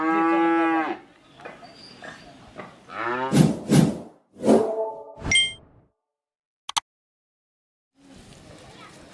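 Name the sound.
Holstein Friesian heifers, cattle mooing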